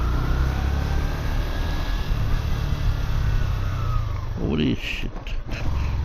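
Engine drone and wind rush from a motorcycle being ridden along a city route in Dhaka's Karwan Bazar area, a steady close rumble with a brief louder swell near the end, under someone talking throughout.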